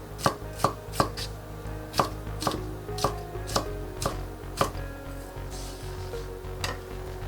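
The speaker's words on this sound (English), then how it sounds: "I'm slicing the carrot. I'm slicing it thin" A knife chops thin slices of carrot on a cutting board in a steady series of about a dozen crisp, close knocks with no talking.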